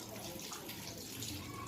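Water splashing and sloshing steadily as children play with it, a continuous low wet rush close by with no clear voices.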